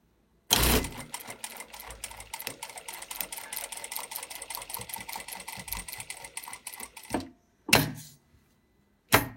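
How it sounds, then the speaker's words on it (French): An industrial sewing machine topstitches around the edge of fabric makeup remover wipes, a rapid steady mechanical stitching chatter for several seconds, then stops with a few sharp clicks and thumps as the work is handled. "je vais faire ma petite surpiqûre tout autour"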